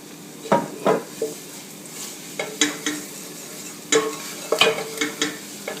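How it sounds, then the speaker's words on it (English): Light roux of flour and a little added oil being stirred in a pot for mushroom soup, with clustered scraping strokes and soft clatters against the pot over a quiet background, close and without talk. "We are trying to do a light roux."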